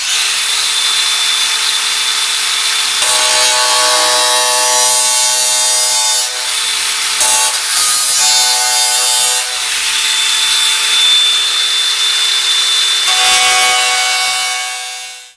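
An angle grinder cuts rusty metal on a Rover tailgate, a loud, close, continuous high-pitched whine with shifting pitch as the disc bites, running steadily before winding down at the end.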